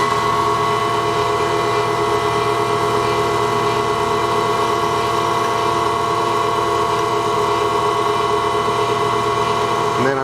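Steady machine whine from a valve-refacing grinder with its stone cutting a Porsche 911 air-cooled cylinder head valve under lubricant, a continuous even hum with a faint rhythmic rasp running throughout, close and fairly loud.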